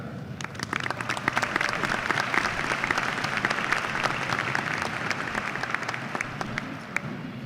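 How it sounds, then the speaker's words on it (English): A high school graduation ceremony audience applauds steadily for the school district cabinet, a dense, sustained clapping from a large crowd that holds evenly throughout. "please give a round of applause to the Laredo ISD Cabinet"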